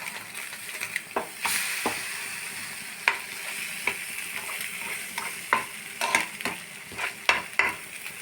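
Bread frying in butter in a pan hisses and sizzles steadily while a spatula scrapes and taps, with scattered knocks as the slices are turned. It sounds close and fairly loud, and no one talks.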